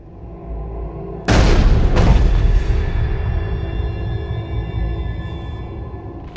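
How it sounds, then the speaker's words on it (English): A single gunshot cracks out loud and sudden in Mass Effect Legendary Edition, a heavy boom with a second burst just after, then a long rumbling decay under a steady tonal drone, with no talking. "You heard the gunshot, and I'm still standing here."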